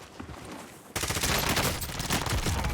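Gunfire in the video game Warzone: after a quiet moment, a sudden dense burst of rapid, loud shots erupts and keeps rattling on without pause.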